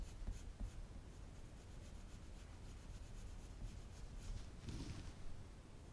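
Colored pencil strokes scratching and rubbing across paper while a chestnut leaf is colored, a steady close dry scratchy texture with short repeated strokes and a slightly louder burst near the end, no voices.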